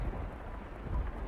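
Rain falling outside a house, a faint, constant wash of drops with a soft low rumble beneath, steady and unbroken.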